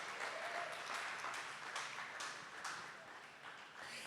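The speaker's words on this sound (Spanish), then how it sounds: "Fuerte ese aplauso a Jesucristo." A church congregation applauds during a Spanish-language service: steady, dense clapping from many people that fills the whole stretch, fading slightly near the end.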